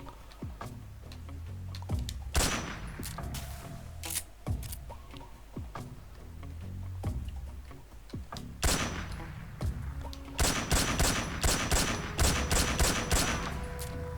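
Gunshots crack in Metal Gear Solid 3. Single sharp reports come at irregular intervals, followed by a denser volley of quick shots, all heard against quiet game ambience.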